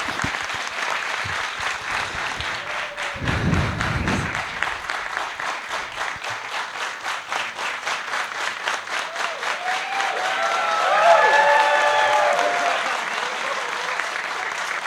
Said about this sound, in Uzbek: Xayrullo Hamidov bugun biz bilan olqishlab qo'yamiz.